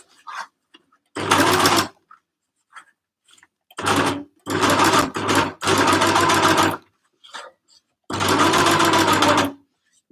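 Overlocker serging the seam of a waterproof drawstring bag, loud steady whirring bursts of stitching that start and stop several times with short pauses between runs.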